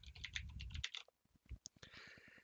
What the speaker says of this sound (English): You're going to go ahead and type your full name here and your parent or guardian's full name here.